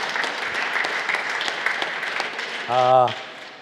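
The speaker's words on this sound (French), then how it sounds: "elle veut applaudir" A congregation claps during an Easter resurrection Mass in church, a moderate continuous patter, briefly overlapped near the end by a sustained tonal voice or sung note.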